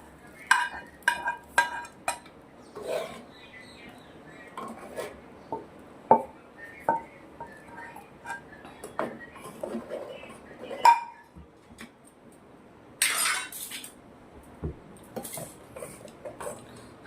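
Spice mix added to simmering urad dal in a Rajasthani kitchen, followed by a series of sharp metal spoon clinks and scrapes against the pot, spaced irregularly over quiet moments.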